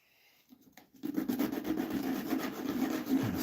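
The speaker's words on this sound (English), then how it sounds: "Kind of sanding some of the edge off that one." Steady rasping strokes of sandpaper rubbing against wood, close and continuous after a brief quiet start.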